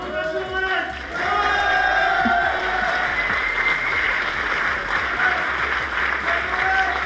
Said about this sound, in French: Un tonnerre d'applaudissements pour eux, s'il vous plaît.